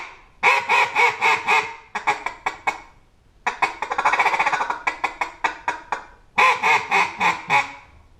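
Double J Quackhead double reed duck call blown in clear repeated quack sequences, bursts of rapid staccato quacks with short pauses and a longer drawn-out feeding chatter in the middle, loud and close with no talking.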